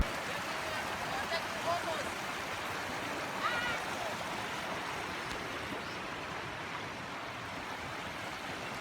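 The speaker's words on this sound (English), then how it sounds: "This is a small river." A small river flows outdoors with a steady broadband rushing wash, moderately loud and continuous, while people talk over it.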